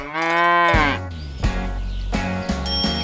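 A cow gives one long, loud, close moo, then a cheerful musical backing takes over in a children's farm-animal counting song.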